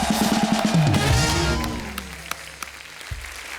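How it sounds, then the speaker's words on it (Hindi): A television studio audience claps steadily, the applause swelling then gradually fading, with music playing underneath. "जोरदार तालियां।"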